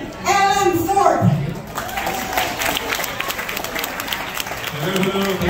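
An audience breaks into applause to welcome a singer, a broad wash of clapping and crowd noise beneath a voice speaking over it at the start and end.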